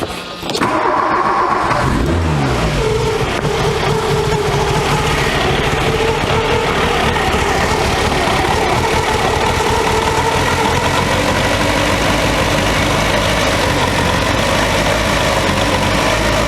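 A barn-find Volkswagen Scirocco engine fires up and settles into a steady, loud idle that runs rich, with continuous mechanical rumble throughout and no talking.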